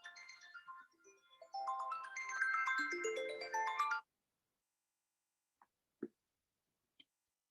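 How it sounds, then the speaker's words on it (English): A phone ringtone plays a loud melodic tune for about four seconds before cutting off, followed by silence and a few faint clicks as it is stopped. "let me stop this phone."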